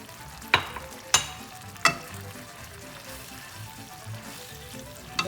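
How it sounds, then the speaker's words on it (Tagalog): Sardines fry with a steady sizzle in a pan as cilantro is stirred in, with a few sharp utensil clinks and scrapes standing out over the crackle. "I-mix mo si cilantro to add more flavor."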